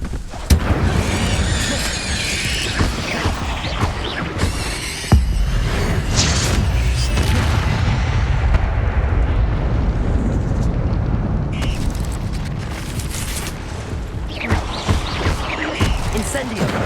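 Incendio fire spells cast in the video game Hogwarts Legacy, loud bursts and fiery booms with crackling, whooshing eruptions and sharp impacts layered over busy combat noise.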